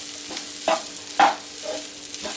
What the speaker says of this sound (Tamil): உருளைக்கிழங்கோட இந்த மசாலாலாம் சேர்ந்து நல்லா மிக்ஸ் ஆகிற மாதிரி நல்லா கலந்து விடணும்